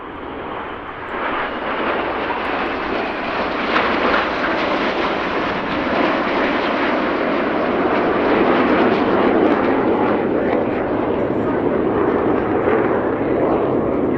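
Red Arrows jets fly an air display at the Royal International Air Tattoo, their engines a loud, sustained roaring rush that swells and stays dense throughout, with commentary voices faint underneath.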